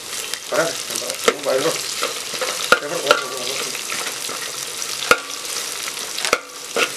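Beef fry is stirred in a sizzling pan, with steady frying hiss under scraping and clinking strokes of a spoon and a few sharp metallic taps against the pan, close and continuous.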